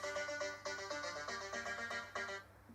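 A mobile phone rings with an electronic ringtone, a melodic run of bright, repeating notes that plays steadily and fairly quietly, with no voices over it, then trails off near the end.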